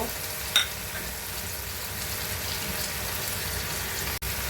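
Tomato goes into potatoes already frying in a pan for a drumstick and potato curry, giving a steady soft sizzle and a brief bump of sound as the pieces drop in.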